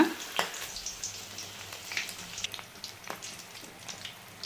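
Andhra-style mirchi bajji, chillies dipped in batter, sizzling as they fry in hot oil, a steady crackling hiss with scattered pops and a few louder splashes close by, without speech.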